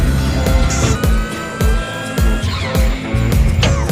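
A modified taxi rebuilt as a bored-up sand racing car speeds hard, engine revving loudly and close with repeated bursts, tire squeals and skidding, alone without speech.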